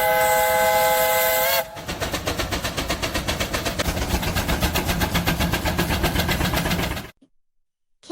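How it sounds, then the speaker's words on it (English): Classic old-time steam-powered tractor pulling a huge multi-blade plow: a steady rhythmic chuffing beat with hissing steam runs for several seconds after a brief opening whistle-like tone, then cuts to silence. "That's a classic steam-powered tractor from the old days, showing off its massive power by pulling a huge multi-blade plow."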